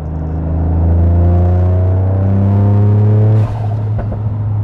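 A Toyota Yaris GR4 Stage 3 with a sport catalyst, mid-pipe and catback exhaust holds a loud, close, droning rev that climbs steadily, then drops off sharply near the end with a brief crackle.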